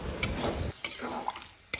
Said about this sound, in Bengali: একটু আমি ভালো করে এবার নাড়াচাড়া করে নেব